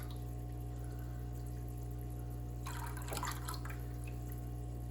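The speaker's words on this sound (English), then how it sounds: "Now you can get a little bit of water in here." Water splashes briefly as it is poured into a grow-out fish tank for guppy and pleco fry, a soft pour lasting about a second over steady low aquarium hum.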